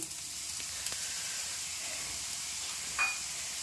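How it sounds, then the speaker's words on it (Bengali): Water sprinkled onto a hot dosa pan sizzles with a steady, faint broadband hiss that lasts throughout, with a brief brighter spurt of steam near the end. "এবার আমি ডোসাটাতে জল ছিটা দিলাম"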